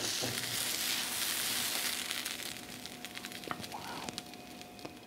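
An egg and vegetable torta fries in a pan, a steady, fairly loud sizzle with hiss and crackle running throughout, with a few small scrapes and pops.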